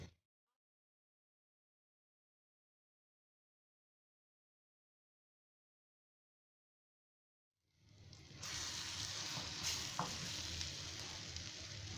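Ground mung dal, semolina and gram flour roast in ghee. After a long silence, a steady, close sizzle with faint stirring starts abruptly and holds to the end.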